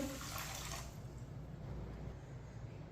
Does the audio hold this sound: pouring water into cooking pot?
yes